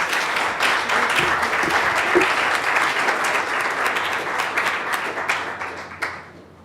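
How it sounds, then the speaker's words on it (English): Applause from a tech meetup audience: a crowd claps steadily for several seconds, then the clapping thins out and trails off into silence. "You can give them a round of applause."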